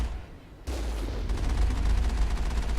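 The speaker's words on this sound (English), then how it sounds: "These bursts of machine gun fire aren't really doing anything." Machine gun bursts in the video game Mass Effect: a dense, steady roll of rapid gunfire that jumps in sharply after a quiet start and keeps rattling loudly to the end, no voices.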